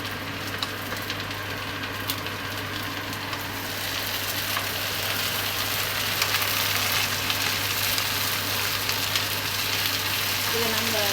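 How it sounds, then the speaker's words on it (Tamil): Long beans for a Jaffna-style curry sizzle and crackle as they stir-fry in a pan, a loud continuous frying hiss with scattered stirring clicks, growing slightly louder partway through. "இதை போட்டு நல்லா பெரட்டி விடணும்."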